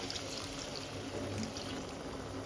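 Coconut milk pours steadily into a pot of prawn biryani, giving a soft continuous liquid trickle that is fairly faint and even throughout.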